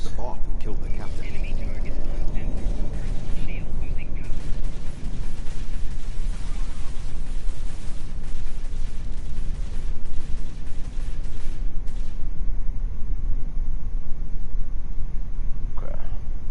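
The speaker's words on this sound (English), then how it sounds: "That was an explosion of sufficient magnitude to cause a breach." Explosions rumble in the Star Trek Online video game, a dense, loud barrage of booming blasts and crackling bursts that carries on almost without pause.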